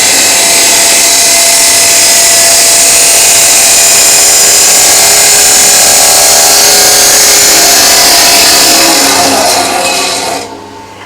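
A 16-inch chop saw cuts through metal with a loud, continuous high-pitched abrasive grinding that holds steady for about ten seconds, then winds down and stops.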